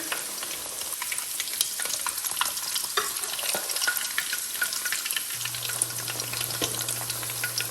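Pakoras fry in hot oil over a medium-low flame, giving a steady dense sizzle with crackling pops throughout and a low hum from about five seconds on, with no voices.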